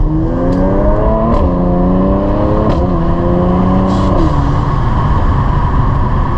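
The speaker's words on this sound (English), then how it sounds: "We're going to get on the throttle here since we're out of the neighborhood." A Mercedes-AMG C43 engine revs hard and accelerates through several gear changes at night, its pitch climbing then dropping with each shift, loud and close throughout.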